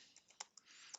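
A few quick keyboard key clicks on a computer keyboard during an online fractions lecture, short and fairly faint, with irregular taps spread across a second and no talking.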